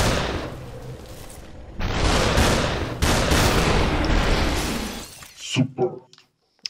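Gunfire and shattering glass-like enemy breaks in the video game Superhot, a loud dense burst of shots and crashes lasting a few seconds, ending in a couple of sharp hits before silence.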